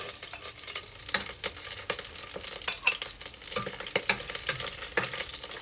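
Garlic sautéing in a hot pan, a close, steady sizzle broken by frequent quick scrapes and taps of a spatula stirring, with no voices.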